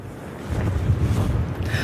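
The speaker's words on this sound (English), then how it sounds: "you can tell just as you asked that it is quite windy here" Strong storm wind buffets the microphone on Vancouver Island, a steady low roar with gusting rumble throughout and no talk.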